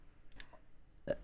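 A single short burp sounds close up near the end, after a few faint small noises in a quiet room.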